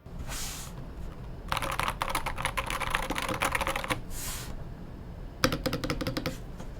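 Bursts of brisk typing on a Varmillo Victory 67 mechanical keyboard with removable keycaps and switches, dense clacking keystrokes in two runs separated by brief pauses, close and clear with no talk.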